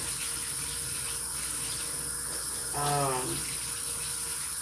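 Tap water running into a glass, a steady low rush lasting several seconds, with a brief spoken hesitation partway through.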